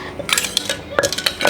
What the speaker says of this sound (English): Now we start to mix with all the ingredients.